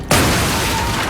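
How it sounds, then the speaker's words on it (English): A sudden, massive explosion of pipe bombs and gas on a film set booms out after a brief quiet moment, followed by a sustained roaring rumble that fills the rest of the clip. "There's this huge, massive explosion."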